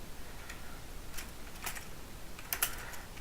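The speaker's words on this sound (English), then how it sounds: "So I'm gonna type systemctl start" Quick keystrokes on a computer keyboard enter a command on a Linux virtual machine, a handful of soft, close clicks in short bursts over a faint room hum, no talk.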